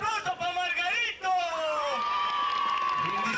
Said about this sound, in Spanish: ¡El aplauso para Margarito!